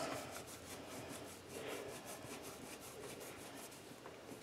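A microfiber kitchen cleaning rag scrubs black spots off a surface, giving a steady, close rubbing rasp with a rhythmic back-and-forth rise and fall and no talk.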